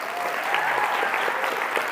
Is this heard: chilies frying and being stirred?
no